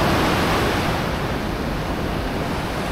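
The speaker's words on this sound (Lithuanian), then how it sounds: "Eik tu savo, kokios bangos." Loud, continuous roar of ocean surf crashing nearby, a dense wash of noise with wind buffeting the microphone.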